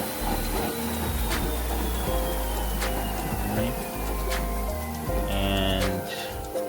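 A Sole S77 treadmill running its calibration gives off a steady motor drone with low, shifting tones and periodic clicks and thumps as its speed changes. A faint high whine slowly falls in pitch.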